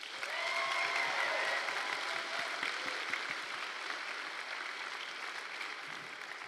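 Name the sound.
graduation audience applauding performers and speakers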